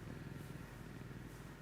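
A pet cat purrs close to a microphone in a continuous low, steady rumble with no voices.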